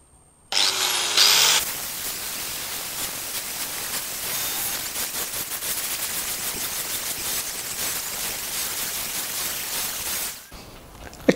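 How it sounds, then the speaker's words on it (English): An angle grinder fitted with a flap disc sands a metal bowl smooth in a metalshaping shop, giving a loud, steady abrasive whir that runs almost continuously before cutting off. "Use a flap disc on an angle grinder and just sand all this really smooth."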